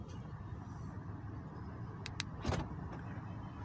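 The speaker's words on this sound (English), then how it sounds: "It did. It locked the car." A Mercedes-Benz car locks with a couple of quick, crisp clicks followed by a brief mechanical clunk, heard fairly close against a steady low background hum and with no talking.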